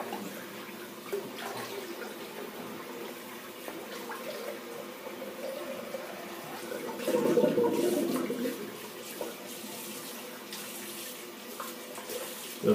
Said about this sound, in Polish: Wypuszczam wodę.